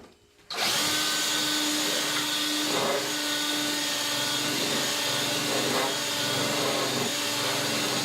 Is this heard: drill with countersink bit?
yes